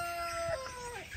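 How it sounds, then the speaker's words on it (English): Young Freedom Ranger chicks in a chicken house give a few soft, rising and falling peeping calls close by, over steady wind noise. "we got the next group of chicks in here now"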